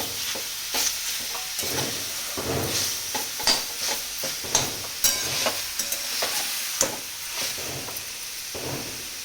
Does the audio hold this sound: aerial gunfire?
no